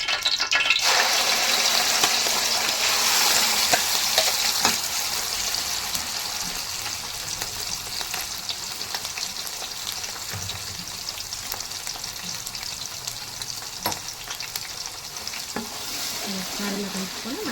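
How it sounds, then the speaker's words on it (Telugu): Ground masala of ginger, garlic, onion and tomato fries in hot oil in a pan, giving a loud, dense sizzle that eases slightly after the first few seconds and carries faint scattered clicks throughout. "ఆయిల్ హీట్ ఎక్కుతుంది మనం మసాలా వేసుకున్నాము"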